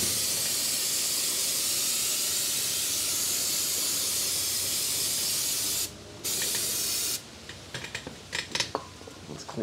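Brake cleaner sprays on front brake parts of a 2015 Jeep Grand Cherokee WK2 in a long, steady, close hiss, then short bursts with small clinks of handling parts.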